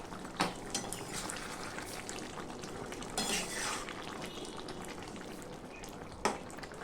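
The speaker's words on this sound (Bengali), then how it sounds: "দেখুন ঝোলটা খুব সুন্দরভাবে ফুটে উঠেছে।" Soybean curry gravy simmers in a covered pan over a lowered gas flame, giving a steady bubbling sizzle. A few sharp clinks of a lid or utensil cut in near the start, the middle and the end.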